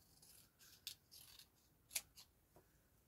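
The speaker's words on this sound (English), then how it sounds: "if I cut that with my scissors, that's going to be even better" Scissors snip through card scraps in a few short, crisp cuts, quiet and close, spaced apart with light rustling between them.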